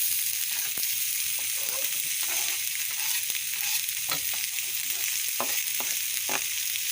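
Pre-cooked chicken being fried on a tawa griddle, a bright steady sizzle with repeated scraping and tapping strokes of a spatula at an irregular pace.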